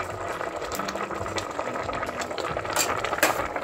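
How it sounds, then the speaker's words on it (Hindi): Bottle gourd halwa with sugar and cream stirred in a pot over a village clay stove, a steady bubbling, scraping texture close by with soft clinks of a spoon throughout. "और इसको अच्छे से मिक्स कर लेंगे।"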